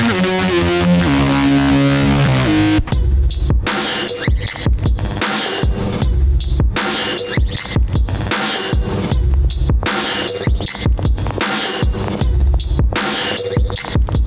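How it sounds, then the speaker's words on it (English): A clean synth melody gives way to a harsh, gritty lead distorted with an amp and bitcrusher, crunchy and saturated, over a pounding hip-hop beat, loud and continuous. "I put an amp and a redux just to make it sound grittier."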